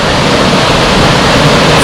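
Steady roar of the tall waterfall at Grand Portage State Park on Minnesota's North Shore, a loud, continuous broadband rush of falling water with no breaks, heard alone.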